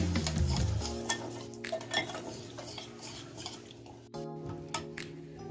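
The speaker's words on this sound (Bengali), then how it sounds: "এখন আমি সুজিটা দিয়ে দিচ্ছি। এখানে আমি 1 কাপ সুজি নিয়েছি, সুজিটাকে মিশিয়ে নিচ্ছি।" Semolina being stirred into a milk and oil mixture for an eggless cake batter, a spoon scraping and clinking against a bowl in steady close strokes, with a brief pause near the end.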